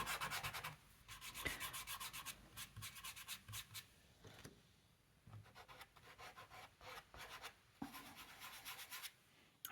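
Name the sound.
soft pastel scratching on paper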